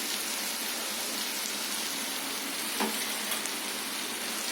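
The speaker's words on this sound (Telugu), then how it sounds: "ఈ విధంగా బాగా ఫ్రై అవ్వాలి గోరుచిక్కుళ్ళు అనేవి" Cluster beans frying in a pan give off a steady, dense sizzle that holds even throughout, with a faint scrape or stir near the middle.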